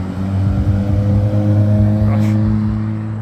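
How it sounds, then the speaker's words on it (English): A loud car passing outside a home: a heavy, steady engine drone with strong low rumble that holds for several seconds and eases slightly near the end. "people here have loud cars sometimes"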